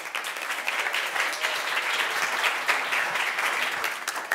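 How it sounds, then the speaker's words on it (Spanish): An audience at a lecture on liberal feminism claps for the organizing team, a steady, even round of applause heard from a moderate distance, fairly soft overall. "Un aplauso al equipo."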